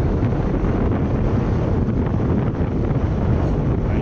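Steady outdoor breeze blowing across the microphone, a continuous low rushing gust noise that stays fairly constant throughout with no talking.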